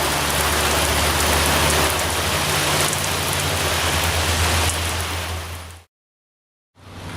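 Heavy rain pours steadily and loudly on a surface close by, a dense continuous wash with a low steady hum beneath, then it cuts out abruptly for about a second before resuming.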